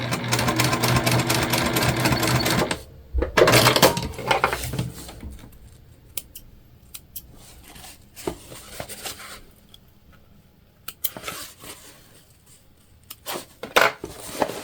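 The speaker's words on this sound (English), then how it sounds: "we're gonna stitch about 1/8 of an inch from the edge here, just to close up our turn hole" A sewing machine stitching along the edge of a fabric pouch lining to close the turn hole, a fast steady mechanical whirr for about three seconds, followed by quieter clicks and handling of the fabric.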